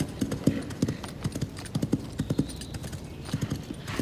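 A horse's hooves clip-clop at a walking pace on a hard street surface, in uneven pairs of crisp knocks, fairly close and steady throughout.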